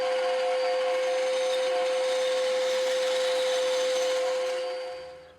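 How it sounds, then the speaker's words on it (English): A table saw trims a wooden board, a steady high whine over a broad rushing cutting noise that holds loud and even, then tapers off as the cut ends. "I'm just using the table saw here to trim the board down"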